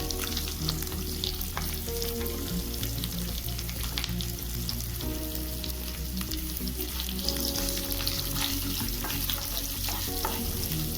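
Chopped onions with curry leaves frying and being stirred in hot oil for kanda poha, a steady close sizzle with spatula scrapes running throughout, no talking.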